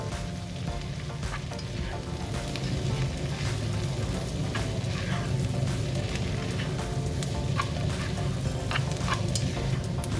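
Continuous sizzling and crackling of spices, including marjoram and chili paprika, frying in a pot for onion soup, with soft scraping of stirring underneath; no one speaks.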